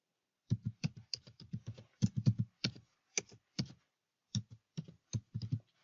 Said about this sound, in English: open a new tab and there you type in www.stackoverflow.com